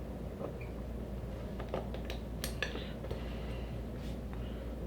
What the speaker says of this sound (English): I'm going to push that pivot pin out